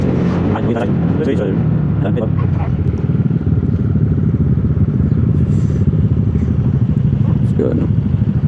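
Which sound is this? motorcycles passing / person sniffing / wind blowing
motorcycles passing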